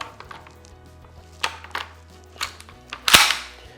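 Several sharp metallic clicks and clacks, spaced irregularly, end in a louder snapping clack as the bolt of a BRX1 rifle slides back into the receiver and locks into place.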